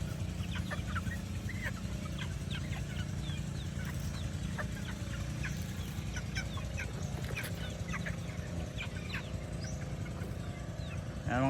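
Leechborn gamecock rooster clucking after being bathed, short scattered clucks and chirps over a constant low background hum, with other fowl faintly around.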